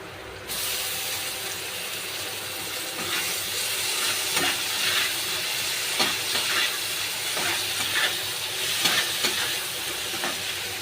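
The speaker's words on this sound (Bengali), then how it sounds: "এবার আমি টমেটোটা দিয়ে দেবো।" Tomato hits hot oil for a fish curry, setting off a continuous sizzling hiss broken by repeated soft scraping stirs at close range.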